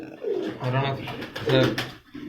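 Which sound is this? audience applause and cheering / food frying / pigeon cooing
pigeon cooing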